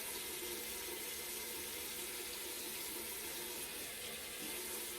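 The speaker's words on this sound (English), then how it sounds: "I'm gonna wet my towel" Water runs steadily from a tap to wet a towel, a constant rushing splash heard close and alone, though fairly quiet.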